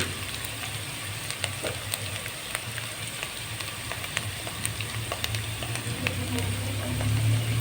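Onions fry in oil for a vegetable biryani, a continuous close sizzle with scattered crackles and pops that grows slightly louder toward the end, with no talk.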